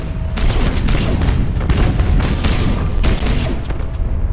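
Starship weapon fire in the space strategy game Battlefleet Gothic: Armada, a dense continuous barrage of booming, crackling blasts with heavy low rumble, loud and overlapping throughout.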